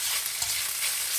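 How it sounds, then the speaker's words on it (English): Rice and mixed vegetables being stir-fried in a single pan over medium-low heat, a brief steady sizzle with a light scrape of stirring, close and alone without voices. "Stir it a bit."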